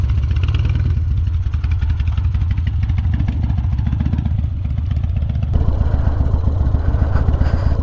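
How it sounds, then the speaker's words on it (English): A Harley-Davidson Dyna motorcycle runs under a rider, its engine giving a continuous, rumbling, close throb that swells louder toward the end. "we're riding the Harley Dyna. Turns differently than my bike."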